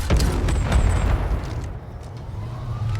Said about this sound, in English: That's an explosion, and look at this wreck.